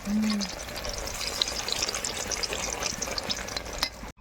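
Eggplant slices frying in oil give a sustained bubbling sizzle with scattered sharp pops, after a brief tone at the start, then cut off abruptly at the end.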